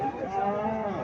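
A Jersey cow moos in a long, loud, drawn-out call at a busy cattle market in Cumilla, close by and filling the whole moment.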